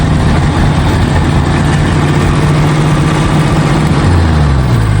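A 1955 Chevrolet 210's big engine runs loud and steady with a deep rumble, its pitch climbing briefly near the end as it revs.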